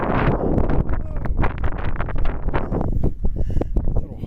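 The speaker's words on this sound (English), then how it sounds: "Little wind gusts." Gusty wind buffets the microphone in steady roaring bursts, loud and close throughout, with a few sharper rustling puffs near the end, in the badlands near Abiquiu, New Mexico.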